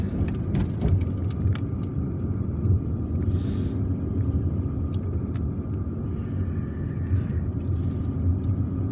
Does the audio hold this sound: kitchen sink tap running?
no